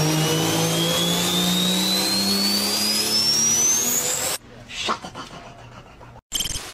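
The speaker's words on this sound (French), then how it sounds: "c'est exactement un V10 qui est conçu pour monter à haut régime et qui fait un bruit de Formule 1" A naturally aspirated BMW S85 V10 engine revs high with a shrill, Formula 1-like wail that climbs steadily for about four seconds. It then cuts abruptly to quieter, scattered noises.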